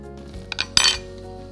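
A spoon clinks a few times against a bowl while spices for veg kebabs are mixed, a couple of light taps followed by a brighter ringing clink, close and brief, no talking.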